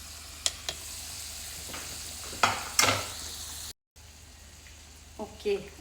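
Potatoes are crushed into garlic chutney gravy in a pan: scattered scrapes and clinks over a soft sizzle, with a short silent gap partway through.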